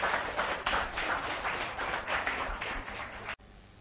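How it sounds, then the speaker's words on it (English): A conference audience claps for the next speaker, a dense steady round of applause lasting about three seconds before cutting off to quiet room tone. "Welcome the next speaker with a nice round of post-coffee applause"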